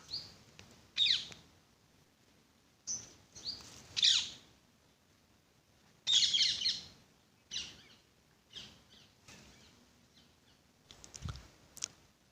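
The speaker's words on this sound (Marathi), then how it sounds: "पक्ष्यांचा आवाज येत आहे, बरोबर?" Birds chirping outdoors in short separate bursts of bright tweets and calls, fairly faint, with quiet gaps between them and no talk.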